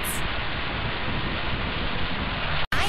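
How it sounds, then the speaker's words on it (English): Rain falls as a steady, dense hiss of even noise, broken only by a brief cut just before the end. "Sometimes it rains."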